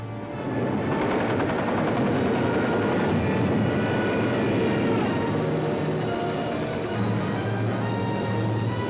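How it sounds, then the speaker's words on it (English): German bombers droning over London during a WWII air raid, a loud, steady roar of engines mixed with rattling gunfire, continuous for the whole stretch. "Some of the German bombers broke through London's defenses."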